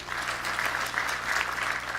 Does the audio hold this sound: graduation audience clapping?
yes